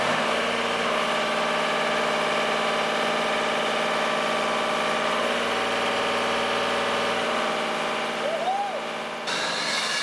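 Engine of an aerial work platform lift idling on a cold morning, a steady mid-low drone with a constant hum, heard close and unbroken throughout.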